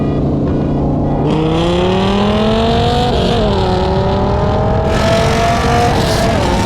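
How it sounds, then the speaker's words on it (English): A Dodge Viper's 8-liter 90-degree V10 with uneven firing and a big lumpy cam revs up in stepped climbs, its loud, choppy exhaust note rising and falling up close with no talking. "Many of you said the Viper sounded like a BMW E60 M5, which kind of makes sense since both engines are 90-degree V10s with uneven firing intervals."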